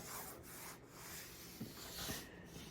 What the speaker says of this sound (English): Try to get that edge back in there and sand it down.